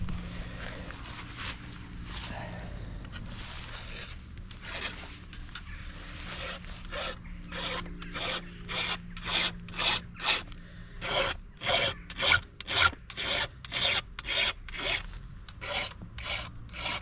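Metal file rasping in steady back-and-forth strokes on a chainsaw chain's depth gauges. Scattered scraping comes first, then a quick, regular rhythm of strokes, close and clear.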